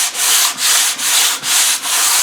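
Steady back-and-forth scraping strokes across the head face of a Land Rover 300Tdi engine block, taking off high spots before fitting a rubber gasket, five loud close rasping passes in even rhythm.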